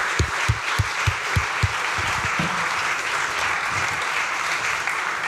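Sustained audience applause at a games industry awards event honouring the winning indie studio Wave 7 Games, a dense steady clatter of many hands with a few sharp louder claps near the start, heard up close and without talk.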